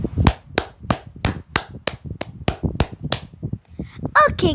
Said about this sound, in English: Give a 10 claps.